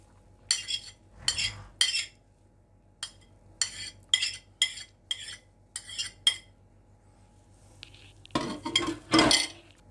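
A metal utensil stirs and scrapes soup inside a nonstick Teflon multicooker pot, making a series of sharp, close clinks and scraping strokes in irregular bursts with quiet gaps between.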